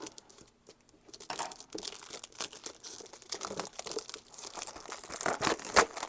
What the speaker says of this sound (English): Let me just cut this with scissors.